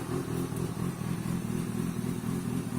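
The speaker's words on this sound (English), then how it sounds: "Want it to be warmed up a little bit, get everything a chance to start flowing through the motor." A 2005 Kawasaki ZX6R 636 motorcycle idles steadily while warming up, its engine giving a constant, close low-pitched rumble with a fine mechanical clatter and no voices.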